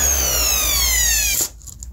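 An orbital sander that has lost power whirs with a steady, thin motor whine, then spins down and stops abruptly near the end, leaving near silence.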